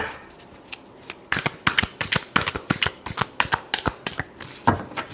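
A deck of tarot cards shuffled by hand, a brisk, close series of crisp riffling snaps and slaps in a steady rhythm, with no voice over it.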